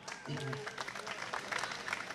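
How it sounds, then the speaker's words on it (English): Applause for Congressman Mike Capuano from the crowd at Somerville's 38th annual senior picnic, a dense, steady patter of many hands at moderate distance, with voices mixed in underneath. "Big round of applause for Congressman Mike Capuano"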